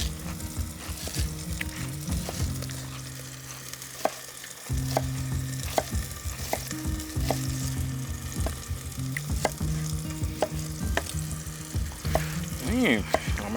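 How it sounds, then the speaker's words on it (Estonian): Chanterelle mushrooms fry on a Big Green Egg grill, a continuous close sizzle with crackling pops and the scrape of stirring running throughout, with no voices. "meil kukeseene poisid juba mõnusalt krõbisevad siin ja ilusad pultsed juba"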